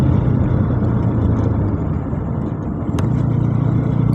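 A Honda NS200 motorcycle at high speed, around 147 km/h, with a wobbling fault; a loud, steady engine drone mixed with heavy wind rush, close and continuous throughout.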